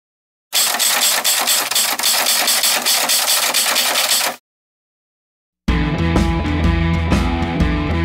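Auto race motorcycles roar loudly off the start at Hamamatsu Auto Race semifinal, a sustained high-revving blast, then a gap and a second burst of engines with music-like tonal layers.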